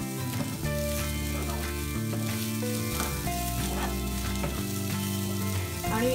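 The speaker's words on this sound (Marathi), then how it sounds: "आपण आता ही भाजी छान परतून घेऊया." Onion and papdi beans sautéing in oil in a pan give a steady, close sizzle that lasts throughout, with a few stirring scrapes and no talk over it.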